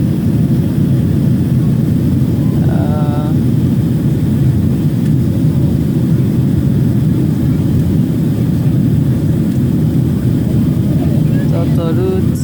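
A Delta Airlines jet cabin roars with steady, loud engine drone and low rumble throughout the flight to Paris, unbroken from start to finish, with a brief faint chime or voice near the beginning and end.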